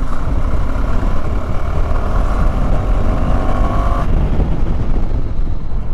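A KTM Adventure 390 motorcycle with 320 mm front and 230 mm rear disc brakes runs with a loud, steady engine and road rumble that drops off sharply near the end as it slows, with no talking.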